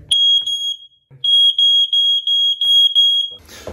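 A smoke alarm with a push test button sounds after its battery is replaced, giving loud, shrill, evenly spaced beeps, a short run, a brief pause and then several more, ending in a rustle of handling.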